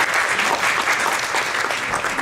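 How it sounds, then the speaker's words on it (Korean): Conference audience at a 2014 Birkman event claps steadily to welcome a speaker, a dense, even round of applause filling the room with no voices on top. "박수로 환영해 주시기 바랍니다."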